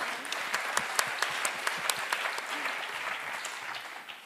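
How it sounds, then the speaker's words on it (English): An audience claps for a young girl during an on-stage film industry interview, a dense steady round of applause with sharper individual claps standing out early and a gradual taper toward the end. "can we have a round of applause for the young young girl?"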